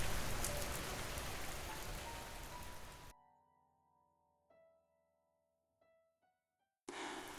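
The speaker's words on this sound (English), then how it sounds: "Rain whispers steadily outside, a calm, soothing reminder that the night continues" Steady rain falls outside, a soft, dense hiss that cuts off abruptly for a few seconds of gentle sustained piano tones before the rain returns at the end.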